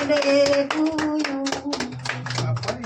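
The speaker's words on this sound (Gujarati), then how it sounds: "તાળી પાડો ભાઈ" Several people clap hands together at a birthday celebration, a fairly close, steady run of claps with voices and chatter mixed in around them.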